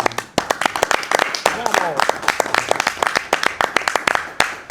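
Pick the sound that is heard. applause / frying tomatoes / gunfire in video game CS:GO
applause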